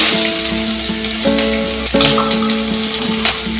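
Chopped onion fries in hot ghee with cardamom, giving a loud, steady sizzle close by with no talking, as a tonal hum runs underneath.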